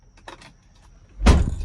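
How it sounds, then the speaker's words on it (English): A 2021 Mercedes-Benz Sprinter van door opens with one loud, close burst of noise near the end, after a stretch of quieter faint clicks and rustling. "So I open the door, I open the door"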